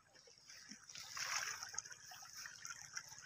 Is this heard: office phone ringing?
no